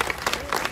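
An audience applauds a singer, a short burst of crowd clapping with faint voices mixed in.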